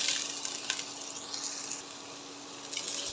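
King oyster mushrooms pan-frying in a little oil in a pot after shallots, a steady soft sizzle with faint crackles throughout, close and moderately quiet, no talking.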